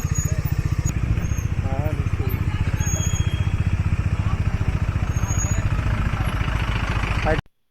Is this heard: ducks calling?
no